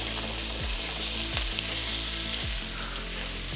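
Steady, loud sizzling of fish frying in coconut sauce in a pan, with occasional soft scraping knocks from stirring.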